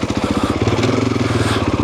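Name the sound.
Husqvarna FE 501 four-stroke motorcycle riding in second gear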